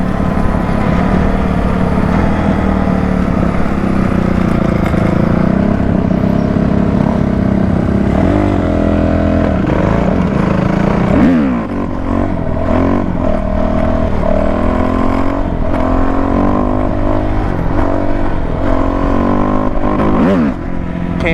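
Dirt bike engine revving at night, a loud steady motor drone throughout with pitch rising and falling as the rider shifts and throttles, close to the listener.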